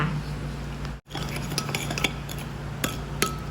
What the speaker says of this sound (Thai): คนให้เกลือละลายนะคะ ให้เข้ากันให้ดี